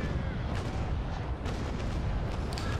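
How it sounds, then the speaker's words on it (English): A sailing warship in the Naval Action game fires a cannon broadside, a dense, continuous rumble of heavy booms rolling together loudly for a few seconds. "I'm gonna use it to also pop a broadside and shell over there"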